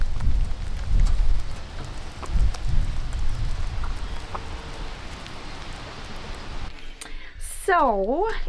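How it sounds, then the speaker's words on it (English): Rain falls outside at a rabbitry building site as a steady soft hiss with low thumps and patters, ending with a short warbling whistle-like sound. "it has been raining a little bit, as you can tell"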